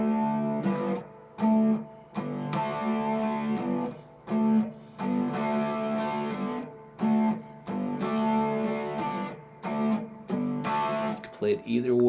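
Slow blues shuffle riff on a distorted electric guitar, with strummed chord stabs in a steady swung rhythm and short gaps between phrases, played alone and moderately quiet.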